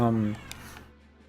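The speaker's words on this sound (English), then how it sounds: "there's a kitty making a horrible noise" A cat nearby lets out one loud, short, harsh meow, and then only quiet room tone remains.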